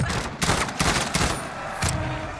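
Burst-fire gunshots in the Call of Duty Warzone video game, several rapid close volleys of sharp cracks in quick groups, loud and dense.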